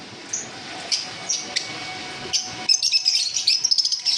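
Green and yellow Fischer's lovebirds at a bird seller's give sharp, high chirps and tweets, scattered at first and then a busier burst of overlapping calls near the end, close by, with no talk.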